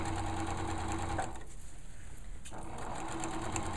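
A sewing machine stitching a hem, a steady fast mechanical whir running close and loud, with a brief slowdown in the middle before it picks back up.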